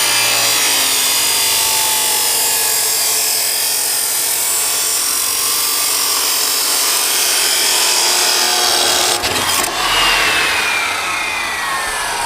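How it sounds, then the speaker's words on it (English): A power saw cuts steadily through a metal exhaust pipe coupler for a Jetta exhaust build, a loud continuous grinding whine that stays even throughout with a brief dip near the end. "Now to cut the coupler."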